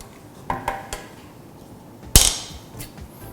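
A few light clinks of plates and pans, then one sharp loud clank and a softer knock, while stir-fried clam pasta is being plated in a kitchen.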